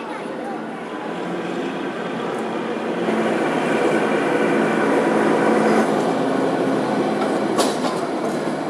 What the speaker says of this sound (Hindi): देखिए एक ट्रेन आ रही है पीछे मेरे, जस्ट चली आ रही है, देखिए।